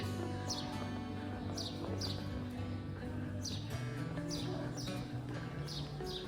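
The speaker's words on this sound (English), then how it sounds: "There was birds chirping, it was really quiet." Small birds chirp in repeated short, bright calls over a steady low background hum in the quiet old walled city of Mdina, Malta, with no one speaking.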